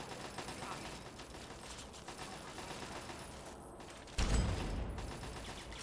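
Rapid automatic gunfire in a video game, a fast crackling stream of shots at low level with a louder burst near the end, no talking.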